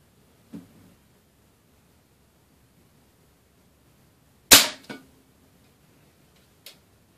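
A Daisy .22 wadcutter pellet fired from an air gun: one sharp, loud crack followed closely by a quick impact knock, with fainter isolated clicks before and after in a quiet setting.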